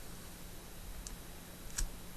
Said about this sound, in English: clicking on the first file and then holding down the Shift key and clicking on the last file